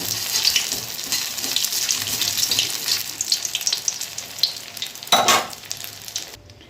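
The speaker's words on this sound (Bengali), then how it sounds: "গ্যাসের আঁচটাকে মিডিয়ামে রেখে এগুলোকে সব ভেজে নিতে হবে।" Soybean dumplings fry over a medium gas flame, giving a loud, continuous close-up sizzle and crackle. A brief clatter is heard near the end.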